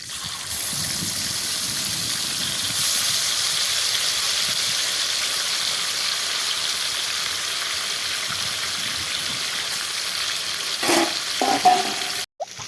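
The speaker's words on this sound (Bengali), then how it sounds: "এবার এই মাংসগুলো দিয়ে দেবো।" Lemon pepper chicken pieces fry in a generous amount of oil, giving a steady, dense sizzle that runs without a break for a long stretch, with a few brief clatters near the end and no talk.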